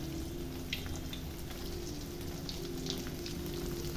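Banana flower balls, Tamil vaazhaipoo kola urundai, fry in hot oil with a steady crackling sizzle and a few sharper pops, heard close with no talk.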